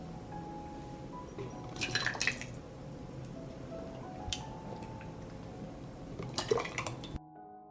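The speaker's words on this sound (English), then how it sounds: "I pour hot tomatoes into jars." Hot cooked tomatoes are poured into glass jars, with soft liquid pouring and dripping broken by a few light glass clinks. The sound is close and fairly quiet.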